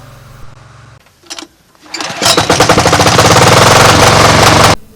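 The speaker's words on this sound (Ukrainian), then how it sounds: "Спеціально для цього придбали потужний генератор." A powerful power generator's engine sputters briefly, then settles into a loud, rapid, rhythmic chugging close by for a couple of seconds before cutting off abruptly.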